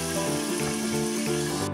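Cauliflower pieces frying in hot oil with salt and turmeric, a steady close crackling sizzle that runs without pause, with no talking over it.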